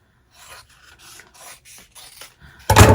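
Fabric is cut straight down the middle for a hexagon zipper bag, making close, dry rasping cuts in short separate strokes, followed by a sudden louder burst of noise at the end.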